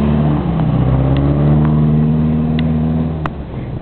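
Subaru Impreza engine revving on a car park lot in wintry conditions on summer tyres, a close, loud sustained rev with rising and falling pitch, no talking.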